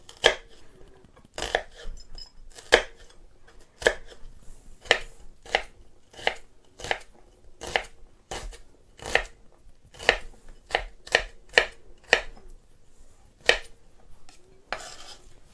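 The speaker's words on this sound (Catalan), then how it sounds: "Agafaré un quart de ceba i la tallarem menudeta." A quarter onion being finely chopped with a knife on a board, giving a run of sharp, evenly spaced chops that speed up toward the end, close and clear with no talk.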